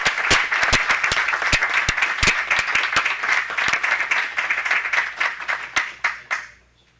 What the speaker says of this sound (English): please join me in applauding the great work that Mike has done